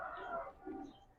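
A single soft, low cooing call from a large pigeon, faint and close, alone with quiet room noise.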